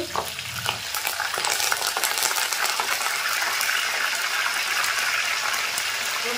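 Curry leaves and onion frying in a hot pan, a loud continuous sizzle with crackling spatter and occasional stirring clinks, steady from start to finish.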